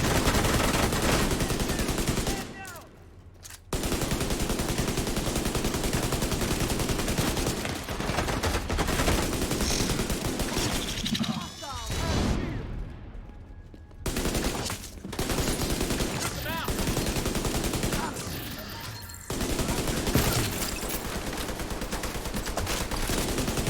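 Sustained gunfire in The Division 2, loud automatic bursts running almost nonstop with a few brief pauses, and a faint voice now and then under the shots.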